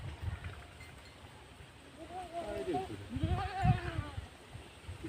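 Goats bleating in a rural village, several wavering calls close by against a windy, noisy outdoor background while people talk.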